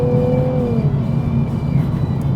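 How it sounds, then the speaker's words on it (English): A 3.0-liter twin-turbo V6 in an Infiniti Q50S Red Sport revs hard and steadily up close, a loud continuous engine drone with rising whine over a dense low rumble, no voices. "Under the hood, we're dealing with a 3-liter twin turbocharged V6 engine."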